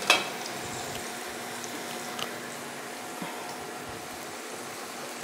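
Chicken frying in a pan for chili chicken, a steady soft sizzle running the whole time at low level, with a few faint clicks and stirring touches.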